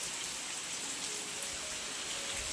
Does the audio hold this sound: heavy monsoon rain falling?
yes